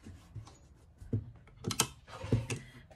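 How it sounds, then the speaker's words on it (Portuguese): Sewing machine stitching over a line on a double-sided waterproof placemat, a quiet run of mechanical clicks and rattling bursts that grow denser toward the end, close and fairly soft, no speech. "eu vou fazer a costura em cima da linha"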